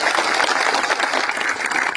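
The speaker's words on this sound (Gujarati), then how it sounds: "એના માટે જોરદાર તાળીઓ પાડો." A rally audience at a Birsa Munda birth anniversary event in Netrang claps loudly and steadily, with dense, sustained applause and no break.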